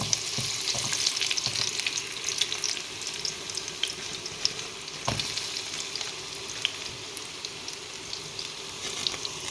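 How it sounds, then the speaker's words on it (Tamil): Potatoes frying in hot oil in a pan, a steady dense sizzle with scattered crackles and pops, fairly quiet and continuous. "உருளைக்கிழங்க முதல்ல பொரிப்போம்"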